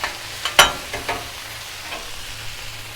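Chicken hibachi sizzling on a Blackstone griddle, a constant close frying hiss with a few sharp pops and spatters in the first second, then an even sizzle.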